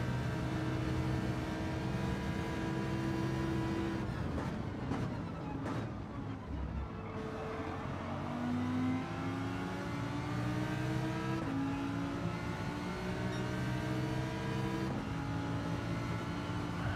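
A Lamborghini race car engine in Gran Turismo 7 drones steadily, rising through the gears with repeated upshifts, holding a loud, continuous high-revving tone throughout.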